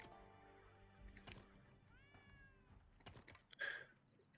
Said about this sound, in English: I keep hearing cats.